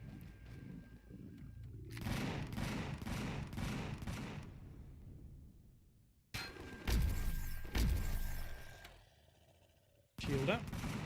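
Rapid turret gunfire in the space game Empyrion rattles out in a long sustained burst, then two shorter heavy volleys with thumping impacts, with a brief spurt at the end and faint voice chatter in the background.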